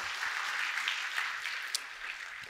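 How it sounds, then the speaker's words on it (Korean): Conference attendees applaud a presenter after a talk on phishing URL detection, a moderate, even round of clapping in a hall with one sharp, close clap standing out. "발표 수고해 주신 이태리님께 박수 부탁드립니다"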